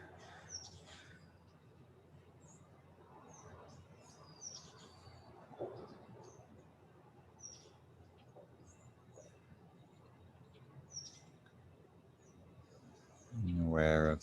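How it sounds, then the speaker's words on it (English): Birds singing outdoors on a breezy day, scattered faint chirps and tweets over a soft airy background, with a loud rustle or thump at the end. "Being aware of the soundscape, movement of life, birds, and breeze, the sounds of the day"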